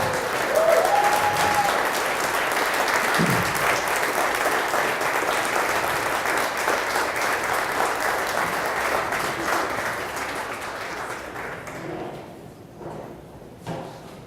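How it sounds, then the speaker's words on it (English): An audience rises for a standing ovation at a Make-A-Wish event, with loud, dense, sustained clapping filling the room throughout and slowly easing off toward the end. "I just wish that everyone would stand up and give her a round of applause"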